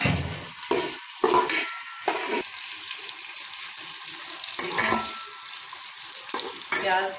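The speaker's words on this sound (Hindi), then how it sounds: "घी हमने गरम कर लिया है, इसमें प्याज डालेंगे।" Onions sizzle and crackle in hot ghee in a pan, a steady bright hiss with bursts of stirring and scraping, close and fairly loud, with no talking.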